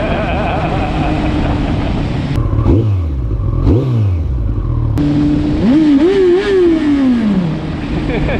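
A motorcycle engine revs hard and loud up close, climbing and falling in pitch through repeated throttle blips with a steady roar underneath.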